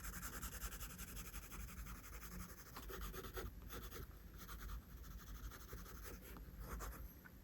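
Pencil or pen drawing and colouring on paper produces a faint, continuous scratchy rubbing close by, with soft strokes repeating at an uneven rhythm and no voices.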